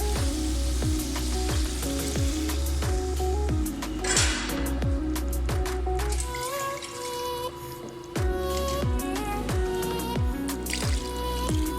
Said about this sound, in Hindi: अब पानी ऐड कर देंगे।